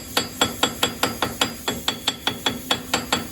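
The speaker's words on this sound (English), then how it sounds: "And now I'm gonna start tapping with the hammer." Steady metallic hammer taps on a Toyota FJ Cruiser wheel hub assembly, about fifteen evenly spaced strikes with a bright ringing edge, close by and alone.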